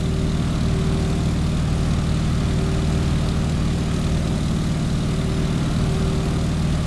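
A propeller aircraft engine throttled back to idle in Microsoft Flight, a steady loud low drone and hum with a constant buzzing tone, unbroken throughout with no talk.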